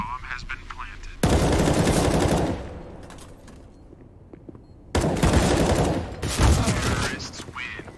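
Rapid automatic rifle fire from an M4 and other guns in a competitive Counter-Strike: Global Offensive match, two loud sustained bursts of rattling shots separated by a quieter stretch, close and dense.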